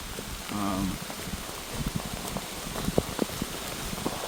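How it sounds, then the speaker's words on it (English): Light rain patters and drips softly in a forest on the Appalachian Trail, scattered drops landing irregularly on wet, muddy ground, with a brief murmur of voice early on. "Rainy, wet, and muddy."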